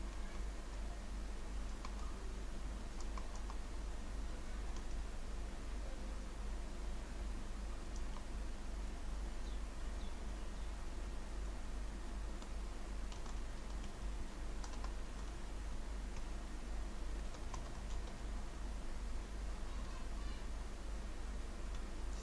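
Steady typing on a computer keyboard while filling in a name and address form, soft continuous key clicks over a constant background hum, no talking.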